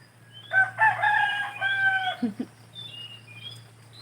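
A rooster crows once, loud and fairly close, a long drawn-out call followed by a few softer clucks and distant bird chirps over a low hum.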